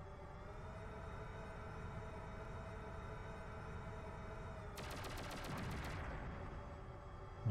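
Rapid enemy gunfire from the PlayStation shooter Shockwave Assault, a dense burst of automatic shots cutting in over a steady engine-like drone and continuing loudly to the end.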